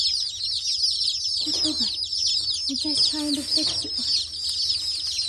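A crowd of young chicks in a brooder chirps constantly in high, overlapping peeps, with a few soft lower clucks, while someone speaks gently nearby.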